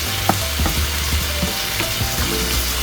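Eggplant omelette with hot and spicy tuna sizzles steadily in a pan, a close, continuous frying hiss with small crackles and no talking.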